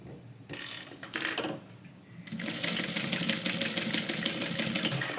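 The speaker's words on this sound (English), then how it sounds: "I just sew down and then back stitch all the way up just a couple times" A sewing machine stitches a tote bag in short bursts, a brief pause between runs, then a longer continuous whirring run as it back stitches, close and loud.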